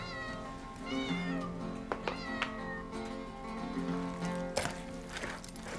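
Hungry cats at a cat sanctuary meow at feeding time, with several overlapping, drawn-out cries from different animals, some close and some farther off, over a low background hum.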